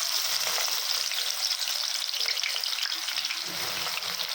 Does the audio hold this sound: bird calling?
no